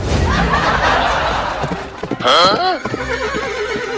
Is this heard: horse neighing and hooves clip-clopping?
yes